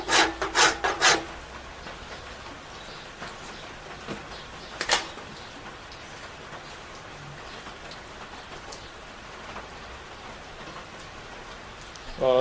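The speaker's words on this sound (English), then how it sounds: "This is a rasp." A hand rasp scrapes across wood in a few quick rough strokes at the start, with one more stroke a few seconds later, then a long stretch of faint background hiss.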